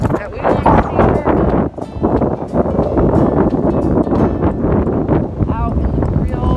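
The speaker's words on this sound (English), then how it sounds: "It's windy at the lake" Strong wind at a lake roars and buffets against the microphone in heavy continuous gusts, loud and close, while someone talks over it during a barefoot walk on mulch and rocks.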